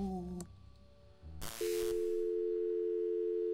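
Telephone dial tone from the point-and-click adventure game Thimbleweed Park: a steady, loud continuous hum that starts after brief game noises and a burst of static, then holds unbroken to the end.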